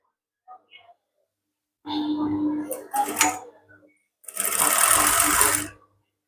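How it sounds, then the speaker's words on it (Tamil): A sewing machine stitches a gown in short bursts of rapid mechanical whirring and clatter, with brief pauses between runs and a few faint clicks at the start. "திருத்தினாக்கு பிறகு இப்ப மிஷின் வந்து தைக்க வந்து நல்ல ஒரு ஈஸியா இருக்கு"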